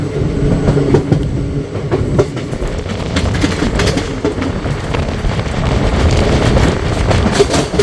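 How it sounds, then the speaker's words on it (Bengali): The Up Sealdah–Asansol Intercity Express passes close by with loud, continuous rumbling and rhythmic clickety-clack of wheels over rail joints. "ওইটা বেরোলো up Sealdah Asansol intercity express"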